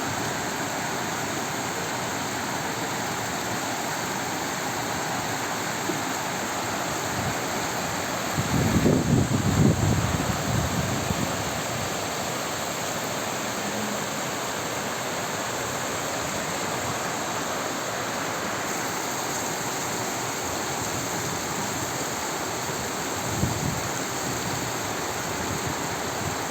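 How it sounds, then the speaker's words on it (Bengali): Rain falls steadily into a village pond in a soft, continuous broadband patter that rises briefly into a louder rush partway through before settling back to an even, moderate hiss. "পুকুরে পানি পড়ছে সুন্দর করে, বৃষ্টির পানি"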